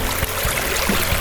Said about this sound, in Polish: jakże rwącą rzekę